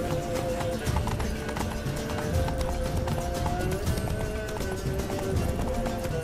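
Horse hooves clip-clop at a steady galloping pace in The Witcher 3, running continuously over a dense game backdrop of music and ambience with no clear speech.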